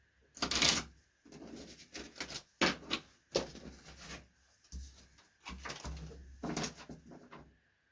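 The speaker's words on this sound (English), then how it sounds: "One more shuffle." Several bursts of papery riffling and soft rubbing as tarot cards are shuffled by hand close up, separated by short pauses.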